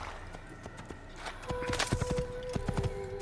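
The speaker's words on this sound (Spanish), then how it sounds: "Corre, caballo, corre." Horse hooves clip-clop in a quick galloping rhythm in the Assassin's Creed video game, close and fairly quiet, picking up after a brief start amid faint game ambience.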